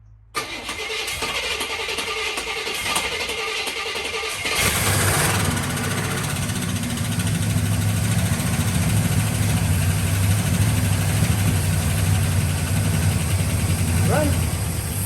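A 1970 Buick Skylark engine cranks briefly, then fires and settles into a loud, steady running rumble that continues close by to the end.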